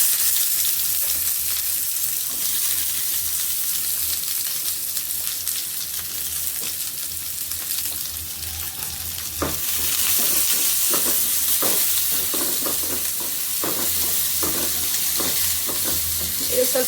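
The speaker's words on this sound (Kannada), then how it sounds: "ಇದು ಸ್ವಲ್ಪ ಉಪ್ಪು ಹಾಕಿ ಚೆನ್ನಾಗಿ ಫ್ರೈ ಮಾಡಿಕೊಂಡು ಲೋ ಫ್ಲೇಮಲ್ಲಿ ಬೇಯಿಸ್ಕೊಳ್ಳೋಣ" Onions frying with salt in a pan give a steady close sizzle, with scraping stir strokes growing more frequent in the second half.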